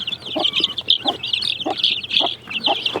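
Close, loud clucking from a hen with her chicks, a rhythmic series of low clucks mixed with high, overlapping peeps from the chicks throughout.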